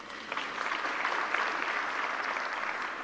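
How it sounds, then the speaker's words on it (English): Steady applause from the audience at an anti-corruption conference in the Bomas hall in Nairobi, dense clapping sustained at an even level throughout with no speech over it. "and a big round of applause"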